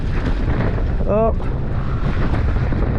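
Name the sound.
strong wind blowing during a wet enduro hill climb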